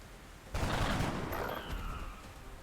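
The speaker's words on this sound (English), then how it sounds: "Get ready to fire." Sustained burst of heavy gunfire from a soldier squad in the tactical video game XCOM: Enemy Within, erupting suddenly and rolling on loud and dense, with a few bright electronic tones trailing near the end.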